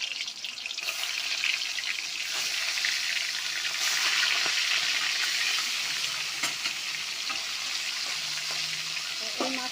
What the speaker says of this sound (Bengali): ট্যাংরা মাছটা ভাজা বসেছিলাম